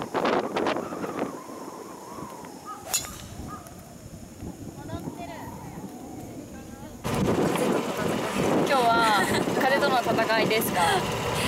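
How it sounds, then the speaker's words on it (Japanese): Strong, typhoon-like wind on a golf course buffets the microphone in a steady roar that grows louder partway through. Voices talk faintly underneath. "めっちゃ風強い、台風並みの強さです。"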